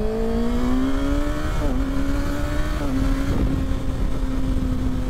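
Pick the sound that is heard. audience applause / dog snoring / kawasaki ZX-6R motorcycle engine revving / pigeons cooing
kawasaki ZX-6R motorcycle engine revving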